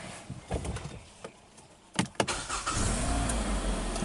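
A 2017 Kia Sportage engine cranks briefly with a couple of sharp bursts, then catches and settles into a steady idle with a low rumble, close and clear, no talking.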